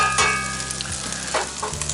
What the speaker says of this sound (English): It's been a few minutes, the bacon's starting to render.